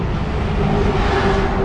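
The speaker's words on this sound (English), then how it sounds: "if you hear all those cars in the background, they're doing some sort of lap thing" Several cars lap a speedway in the background, making a steady, loud engine roar and drone that holds constant with no talk over it.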